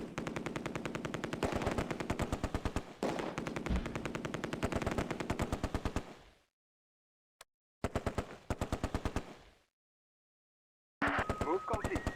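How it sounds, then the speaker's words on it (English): Long bursts of MG42 machine-gun fire in the Close Combat war game, set on Polish drop farmland, rattling loud and close in rapid rhythmic strings with short pauses, a brief silence, then further bursts. "The MG42 opens up on the right flank."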